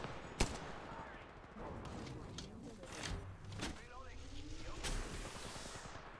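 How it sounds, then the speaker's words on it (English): Gunfire in the Apex Legends Mobile battle-royale game: sharp shots and bursts crack out repeatedly over a busy background of game noise, some loud and close, others fainter. "where am I getting shot at?"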